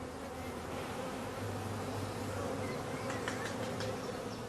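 Honey bees swarm around colour-coded nucleus hives that hold young queens and their colonies, making a dense, continuous buzz. A few individual bees zip past close by.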